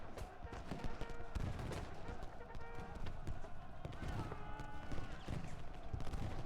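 Musket volleys in the Civil War strategy game Ultimate General Gettysburg make a dense, continuous crackle of scattered shots layered over a busy battle din, with indistinct voices mixed in throughout.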